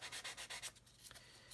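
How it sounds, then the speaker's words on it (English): A sanding stick scrubs over a plastic part of a 1/72 scale Airfix Vulcan model kit in quick, close, rhythmic strokes, about six firm passes and then a few lighter, sparser rubs, all quiet and without talk. "Careful when you're sanding this area here, you don't want to be sanding that there flat."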